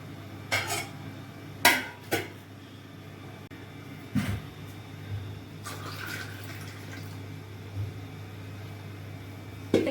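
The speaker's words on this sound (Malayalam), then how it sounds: "അടുപ്പയിലേക്ക് ഒരു കലം വെള്ളവും കൂടെ തിളപ്പിക്കാനായിട്ട് കുടിവെള്ളം തിളപ്പിക്കാൻ വെക്കുന്നുണ്ട്" A clay pot of drinking water is handled on a stove, with several sharp clunks and scrapes of pottery and utensils set down at irregular intervals over a quiet kitchen background.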